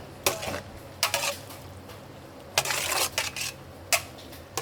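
A spoon stirring pasta fagioli in a pot, with several sharp metallic scrapes and clinks against the pot in irregular bursts over quiet kitchen background.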